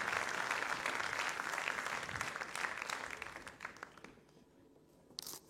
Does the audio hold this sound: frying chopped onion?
no